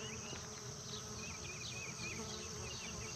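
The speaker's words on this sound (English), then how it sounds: "Can you hear the bees?" Bees buzzing around squash plants in a Kentucky vegetable garden in July, a steady close insect drone with shifting wingbeat tones over a constant outdoor background, no one talking.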